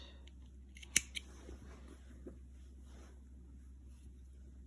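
Scissors snip through yarn while finishing crocheted slipper socks, two quick sharp close cuts in fast succession against a quiet, faintly breezy background.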